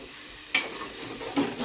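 Tomatoes go into a pan of hot garlic-ginger paste, giving a sudden sharp sizzle at about half a second and a second burst near the end, with frying hiss and stirring in between. Nobody speaks.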